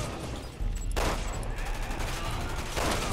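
A turret fires a steady rattling burst of gunfire in the Resident Evil 6 video game, dense and continuous throughout, loud and close with little talk over it.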